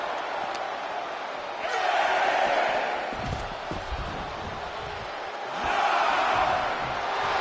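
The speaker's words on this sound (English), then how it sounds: "Jacob Fatu feeding off the crowd, feeding off their energy" Arena crowd cheering in the WWE 2K25 wrestling video game, a steady broad roar that swells louder twice during a SmackDown match, with scattered thuds and shouts beneath.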